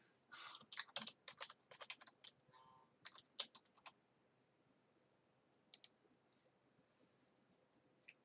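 Someone types on a computer keyboard close by, with quick clattering keystroke bursts and short pauses between them, then a few scattered clicks after a longer gap.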